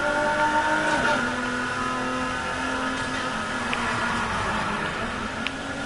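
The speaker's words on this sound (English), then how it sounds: "Did you hear the engine sound?" A race car engine in NFS Heat roars steadily and close with a sustained tonal whine, then the pitch dips as another car sweeps past, while faint ticks of road noise sit beneath the drone.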